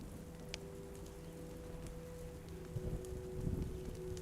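Soft, steady rainfall fills a scene in the video game The Walking Dead Season Two, a faint, even wash of drizzle with a light breeze and a few quiet scattered ticks, growing slightly fuller near the end.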